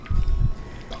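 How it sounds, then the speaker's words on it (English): A container holding water mixed with an oil and soap insect spray is shaken, giving two quick sloshing bursts of liquid close by, with no voices. "So shake that up, and it kind of emulsifies."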